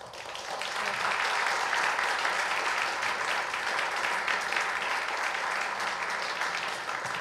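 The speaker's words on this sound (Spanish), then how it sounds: "quiero que le demos un fuerte aplauso a la directora de la película, Cinzia Bomol." Audience applause for film director Cinzia Bomoll, a dense, sustained clapping from a full room that swells in and holds steady and loud for several seconds without talk.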